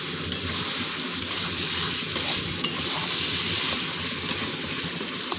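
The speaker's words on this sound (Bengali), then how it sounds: "চিকেনটা কষানো হচ্ছে।" Chicken being stir-fried down in a pan for a pointed gourd chicken curry, a loud steady sizzle with intermittent spatula scrapes and clinks, no talking.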